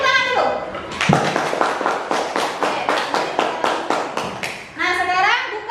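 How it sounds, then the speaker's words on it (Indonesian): A class of children applauds, a dense burst of clapping swelling for about four seconds before fading, with children's voices before and after the applause. "Beri tepuk tangan dulu."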